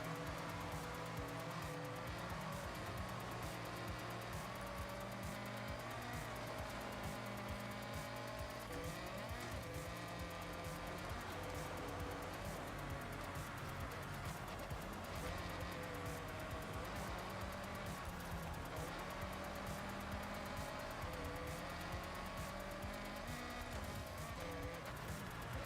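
A Ford Escort Cosworth set up for off-road use runs in the Forza Horizon 6 racing game, its engine droning continuously with shifting revs and tyre noise layered throughout, quiet and steady.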